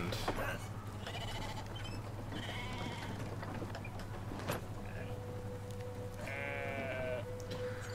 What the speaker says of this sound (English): It's just funny with the catapulting sheep.